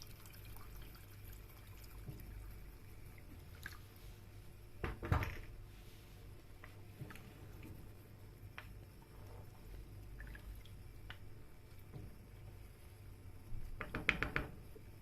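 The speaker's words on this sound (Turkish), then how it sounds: "Üzerine üstü kapanana kadar su ilave edelim." Water pours steadily into a cooking pot of meat keşkek, a wheat and meat stew, with a soft continuous trickle and a few brief clanks of the pot, close by and without talk.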